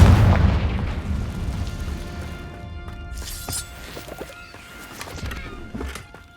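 A Confringo fire spell bursts in the Hogwarts Legacy video game, a heavy booming explosion at the start that decays into a long rumbling tail, followed by scattered smaller impacts and crackles.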